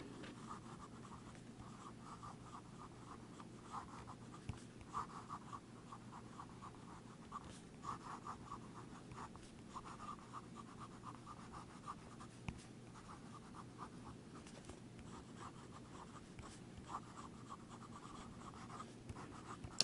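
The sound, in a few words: pen with 18K gold nib writing in ink on paper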